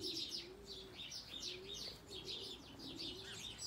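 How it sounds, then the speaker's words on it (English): Large birds bathing give soft, low cooing notes repeated at an easy pace, with faint higher chirps scattered over them, quiet and somewhat distant. "The big birds are having a bath."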